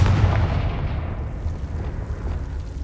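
Confringo blasting spell explosion in Hogwarts Legacy, a loud deep boom that fades into a long rumbling tail across the whole stretch, with no talk over it.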